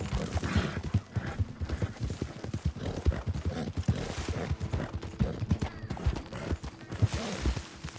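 Horse hoofbeats in Red Dead Redemption 2 pound in a rapid galloping rhythm, loud and close, with a busy game soundscape beneath.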